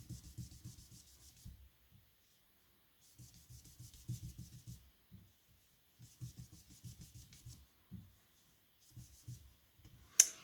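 Felt-tip watercolour marker colouring on paper, heard as soft, close rubbing strokes in several bursts with short pauses between them, ending in one sharp click.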